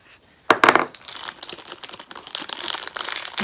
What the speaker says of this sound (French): On a des tonnes de papier là-dedans.